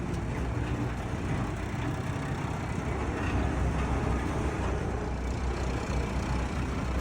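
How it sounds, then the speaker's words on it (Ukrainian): A mini combine harvester, in good condition, runs smoothly with no smoke or misfiring, its engine a steady, loud, even rumbling drone that holds throughout without a break. "не димить, не троїть, не передить, працює дуже плавно, рівненько, комбайник не пригає"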